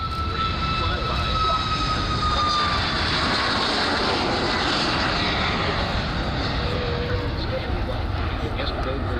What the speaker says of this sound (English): on the takeoff roll right now, we are very honored to take one final look at Southwest's newest specialty livery.